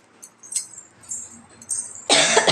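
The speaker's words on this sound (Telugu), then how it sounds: "ఘాటుకి నాకే దగ్గు వస్తుంది" A person coughs from pungent chili fumes in a home kitchen, with a few quiet catches of breath leading to one loud, harsh, close cough burst at the end.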